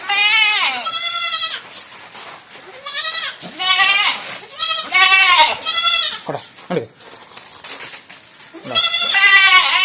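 Milk goats bleat repeatedly and loudly nearby, a run of wavering, nasal cries one after another with short pauses between them.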